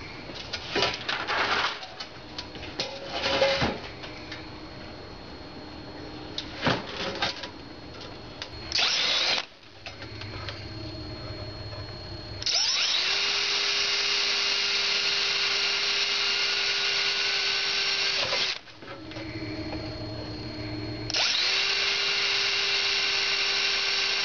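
A power drill bores holes for metal rods at an outdoor field project. It runs in several loud bursts of different lengths, with a long steady whine in the second half and a few birds cooing faintly in between.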